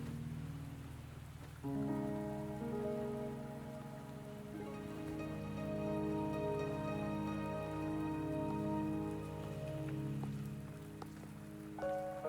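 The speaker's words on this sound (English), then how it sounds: "Are you trapped here by the rain?" Rain patters on surfaces in the video game Wuthering Waves, a steady, soft wash of drops layered under sustained musical tones from the game's score.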